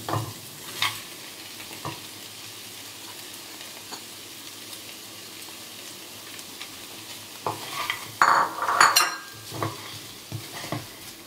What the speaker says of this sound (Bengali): চিকেনের সাথে একটু নাড়াচাড়া দিয়ে নেব।